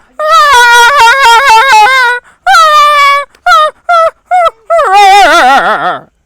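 A voice imitates a dog, giving a run of loud close yelping barks followed by drawn-out whimpering whines that waver and slide downward, with short pauses between.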